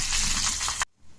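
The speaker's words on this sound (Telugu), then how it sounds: "ఈ పోపు ఫ్రై అయ్యాక" Mustard seeds, cumin, chana dal, dried red chillies and curry leaves frying in hot oil as a tempering for masala dosa chutney, a loud dense sizzle that cuts off abruptly near the end.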